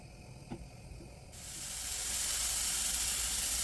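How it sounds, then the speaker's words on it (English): Mushrooms cooking in a pan for an oxtail stew, starting with a brief faint tap, then a loud, steady broadband sizzle that swells after a second and holds continuously to the end, with no talking. "we're just going to cook off some mushrooms."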